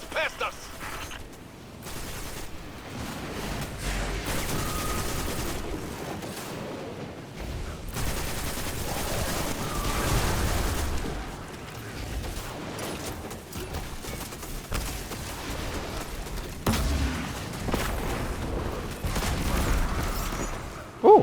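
Sustained gunfire in Destiny 2 during a final weekly mission fight against ritualists, with steady rattling bursts and occasional booms under dense game sound.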